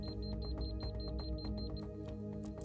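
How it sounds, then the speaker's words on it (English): An electromagnetic radiation tester sounds its alarm beside a phone as fields exceed 40 volts per meter: a fast, steady run of thin electronic beeps over a constant hum, loud and close, with no voices. "The alarm sounds and the red light flashes when electromagnetic fields go above 40 volts per meter"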